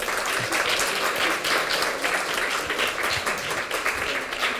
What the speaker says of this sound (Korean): 속기사님께 큰 박수 부탁드립니다.